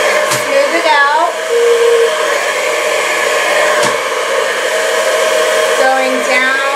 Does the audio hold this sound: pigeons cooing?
no